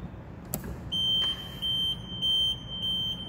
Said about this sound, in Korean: 경고 알람과 함께 모든 작동이 정지하게 됩니다